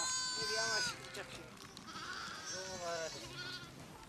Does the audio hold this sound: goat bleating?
yes